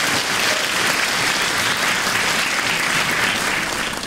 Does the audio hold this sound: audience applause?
yes